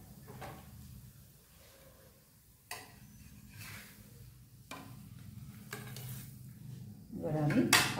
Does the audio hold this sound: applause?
no